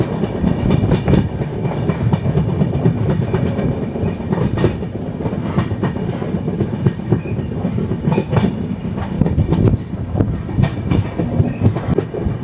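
Barak Brahmaputra Express running alongside a river, with a loud, continuous rumble of the rail cars and steady clickety-clack of wheels over the joints throughout, heard close from on board with no talking.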